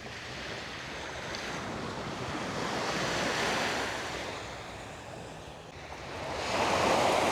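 Sea waves wash steadily onto the shore at Pangani, a broad continuous surf that swells and eases, with wind buffeting the microphone and no voices.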